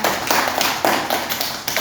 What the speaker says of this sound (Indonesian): Berikan tepuk tangan kepada teman-teman.